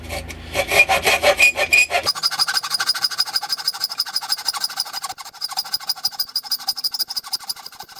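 Rhythmic back-and-forth rasping strokes of a Soviet-made hand hacksaw cutting, loud and close, continuing steadily without any talking.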